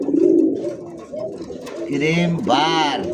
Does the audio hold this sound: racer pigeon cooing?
yes